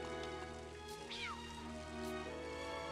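A cat in The Adventures of Elliot: The Millennium Tales gives one short meow over steady game music and a soft rain-like patter.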